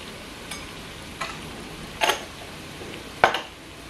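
A spoon stirs curry seasoned with turmeric and curry powder in a pot during batch cooking, giving a few scattered, fairly close clinks and scrapes against the pot over a soft background.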